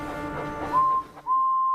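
A steam engine's train whistle from Thomas and Friends sounds as a clear sustained tone, cut briefly, then resumes loud and steady after a murmur of lower background sound.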